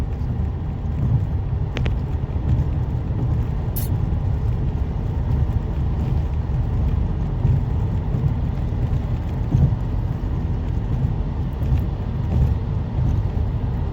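Steady low rumble of a bus or trailer driving past on the road, continuous and fairly loud with wind buffeting, no speech over it.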